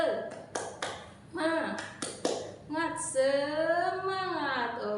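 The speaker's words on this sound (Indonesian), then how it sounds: "Tepuk semangat." Schoolchildren in an elementary classroom perform the tepuk semangat chant, a series of sharp rhythmic claps followed by a group of young voices chanting together, close and loud.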